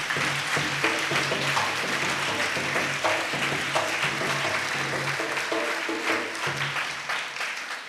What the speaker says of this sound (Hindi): भरपूर तालियां होनी चाहिए।